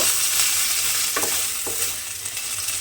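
Spice paste fries in hot oil for a radish greens dish, giving a loud, close, continuous sizzle with a few soft stirring scrapes. No talk.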